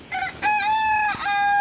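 A hen clucks once and then lets out a long, loud crowing call up close, the drawn-out tone holding steady with a brief break near the end.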